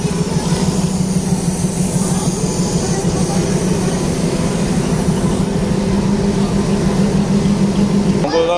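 A train at a station, heard as a loud, steady low rumble and hum that carries on throughout with a faint tonal whine on top, against busy platform background noise.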